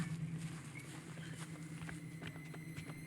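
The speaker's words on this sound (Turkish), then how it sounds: "Ayak sesi var." Footsteps in the video game Outlast: Whistleblower thud in a steady walking rhythm, moderately close, over a constant low ambient hum.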